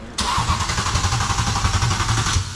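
A Mercedes CLS550 engine cranks over with its spark plugs removed, a loud, rhythmic starter churn that begins suddenly and keeps turning without firing.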